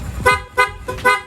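Three bursts of a loud, buzzy aftermarket motorcycle horn, each about a third of a second, over the steady low hum of the idling motorcycle engine.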